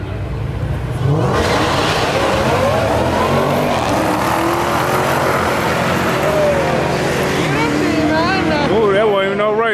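Cars rev and accelerate hard in a loud, sustained roar, engines climbing in pitch with rising and falling whines toward the end, while voices talk beneath the noise.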